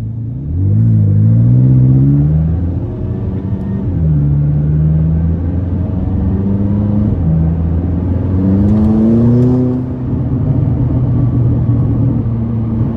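A tuned 664 hp McLaren 570S engine roars loudly as it accelerates, its deep growl climbing through gears with several shifts, heard from inside the moving car.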